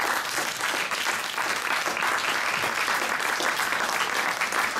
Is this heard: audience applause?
yes